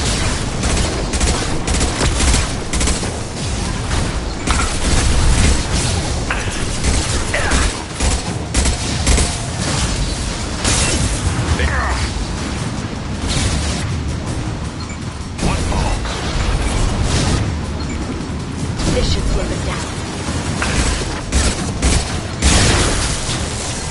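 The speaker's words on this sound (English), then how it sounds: "Watch out, flashbangs!" Flashbang grenades and sustained gunfire in Mass Effect 2, a dense, loud, continuous barrage of shots, booms and mechanical clatter that fills the whole stretch.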